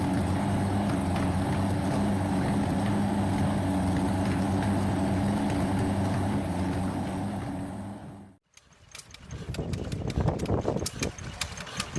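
A running inverted V12 air-cooled aircraft engine, the Curtiss SO-3C Seamew type, gives a loud steady droning roar with strong low harmonics for about eight seconds, then cuts out abruptly and gives way to scattered clattering sounds.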